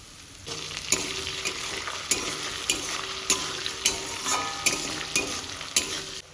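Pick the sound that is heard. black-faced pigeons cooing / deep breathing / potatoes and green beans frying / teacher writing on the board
potatoes and green beans frying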